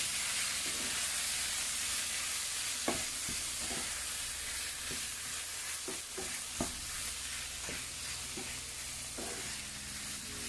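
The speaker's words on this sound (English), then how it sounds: "and we're gonna stir that in." Spices, turmeric and paprika, being stirred into a hot sizzling pot for a vegan coconut chickpea curry; steady close frying hiss throughout with soft scraping stir strokes scattered across it, no voices.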